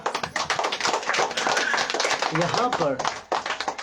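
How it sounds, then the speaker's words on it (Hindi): A church congregation claps in quick, rhythmic beats during a sermon, the sharp, close claps running steadily under a preacher's continuing speech. "ताली बजाइए"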